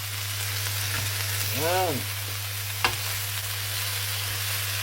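Pork belly binagoongan with vegetables fries in a pan with a constant hiss and sizzle, a steady low hum beneath, a brief rising-falling tonal sweep midway and a sharp knock, plus a short spoken word.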